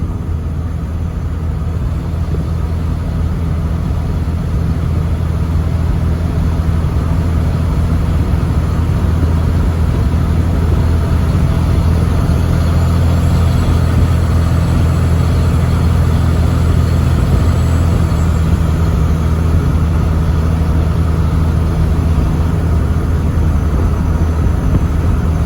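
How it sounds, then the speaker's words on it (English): A truck hauling hay cruises in fifth gear at about 55, its engine droning steadily with a loud, constant low hum and road roar throughout, with no talking. "we're in fifth gear here, and yeah, just cruising right along to about 55"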